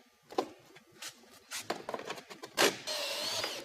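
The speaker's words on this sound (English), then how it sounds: "Then screw down into the 2x2 on top of the cap." Screws driven with a power driver through a metal barrel cap into a wooden 2x2 on a roof gable, several short whirring bursts with clunks and scraping, close and fairly quiet.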